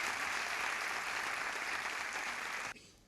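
Audience applause at the 2018 Océan Culture finale, the 27th edition: a dense, steady wash of clapping fills nearly three seconds before cutting off sharply, leaving a brief faint tail.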